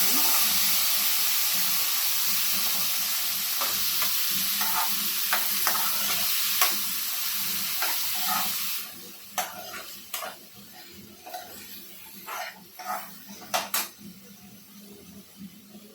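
Potatoes frying in a pan with Kashmiri red chilli, a steady sizzle that eases off partway, followed by repeated scraping and clattering stirs of a spoon against the pan, close by with no talking.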